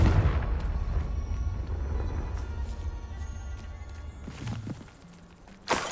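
Bombarda and Confringo explosion spells in the Hogwarts Legacy video game, a dense rumbling blast that fills the opening seconds and slowly decays, followed by a sharp crack near the end, loud and without talk.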